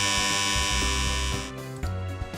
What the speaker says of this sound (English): the buzzer sounds again